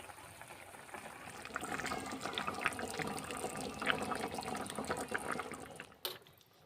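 Okra and potato curry bubbles steadily in an open pan, a continuous close, moderately loud boiling hiss with scattered pops throughout, ending in a brief clatter.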